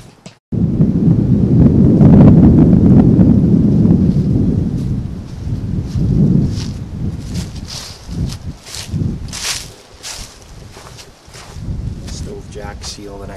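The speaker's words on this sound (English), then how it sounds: "Looks like it's blowing pretty hard out there. Kind of windy today." Strong wind roars and buffets around a bell tent at a camp out with a homemade wood stove. A loud, rumbling gust fills the first few seconds, then it eases into softer, uneven gusts and clicks.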